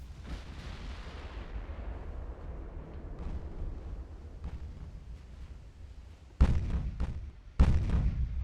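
Heavy naval gunfire and shell impacts pound the warship Glorious in Ultimate Admiral: Dreadnoughts, a steady low rumble of distant salvos broken by two loud, close booms near the end.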